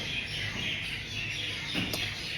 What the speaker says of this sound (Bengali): আবার পাখিগুলো কি কিচিরমিচির করছে